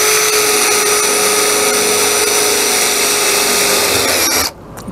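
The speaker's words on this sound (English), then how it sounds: "I'm having to drill this because I have to go through two layers of roofing" A power drill bores through metal roofing drip edge and two layers of roofing. A loud, steady whine runs continuously for several seconds, then stops abruptly near the end.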